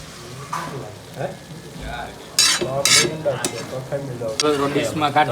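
Onions and paneer for paneer bhurji fry in a pan at a farmhouse cookout, a steady sizzle with scraping stir strokes and a few sharper bursts, people talking over it throughout.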